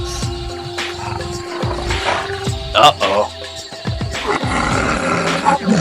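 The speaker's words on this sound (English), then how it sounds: "It's Tiger!" A tiger roars in an animated adventure film: several deep, growling roars and snarls rise over a busy soundtrack, with a short spoken exclamation among them.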